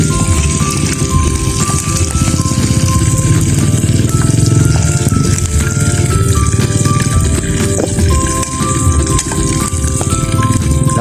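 Dried fish (bulad) frying in a pan, a dense continuous crackling sizzle, loud and close, with no break.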